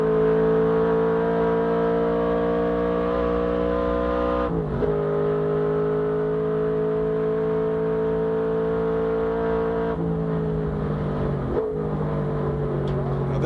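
Onboard a GT race car lapping Mosport in the 2004 World Challenge, the engine holds a loud, steady high-revving whine with sharp gear-change dips at intervals, continuous and close throughout.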